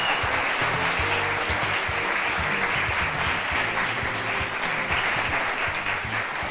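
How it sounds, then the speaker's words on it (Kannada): Studio audience applause on a TV courtroom-style talk show, a loud, dense, continuous clapping that holds steady throughout without voices. "ಈ ಚಪ್ಪಾಳೆ ಸದ್ದು ಮುಂದುವರಿತಾ ಇರಲಿ."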